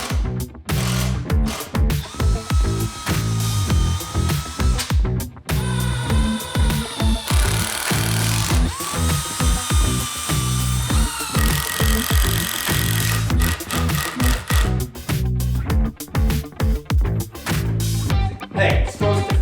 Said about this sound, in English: pre-drill and secure with wood screws.